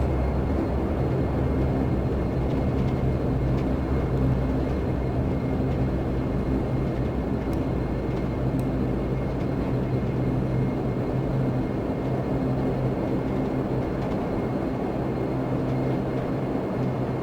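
An airliner taxis toward a runway in Microsoft Flight Simulator X Steam Edition. Its jet engines make a steady, dense, low-pitched rumble that stays even throughout, with no one talking over it.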